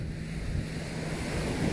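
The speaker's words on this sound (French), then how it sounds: "quelques secondes d'entendre le bruit des vagues" Ocean waves wash in a steady, close, continuous surf roar with wind, heard alone without any voices.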